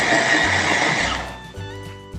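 A blender grinds spice paste ingredients for Balinese-style chicken with a loud whirring that shifts pitch and slows as the motor changes speed.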